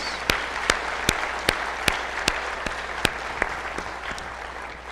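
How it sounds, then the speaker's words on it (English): At a university opening session, an audience applauds in a continuous wash of clapping, with a few sharp, loud claps from someone nearby punctuating it at a fairly regular pace. "how about a big round of applause for all these great new employees?"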